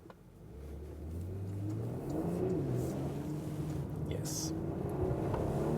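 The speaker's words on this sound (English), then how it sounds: "Accelerating out of the corner with the rear wheel biased all-wheel drive, rear axle steering." A rear-biased all-wheel-drive luxury sedan with rear-axle steering accelerates out of a corner, its engine note climbing and holding steady and loud inside the cabin, with a brief spoken word over it.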